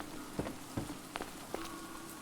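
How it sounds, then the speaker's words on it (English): Rain falls in the survival game Stranded Deep, a soft steady patter with a few sharper droplet hits scattered across the scene, fairly quiet and without talk. "this is just rain"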